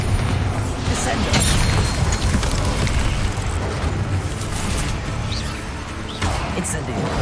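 Bombarda explosion spell cast in the video game Hogwarts Legacy, a dense, continuous booming blast with heavy low rumble and crackling debris filling the whole stretch at steady loudness.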